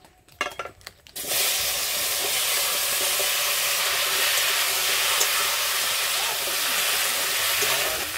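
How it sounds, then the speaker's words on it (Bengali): Large potatoes frying in hot oil in a home kitchen. A loud, steady sizzle starts after about a second of quieter handling noise and holds close and even to the end, with no talk. "আলুগুলো এবার ভেজে নেবো।"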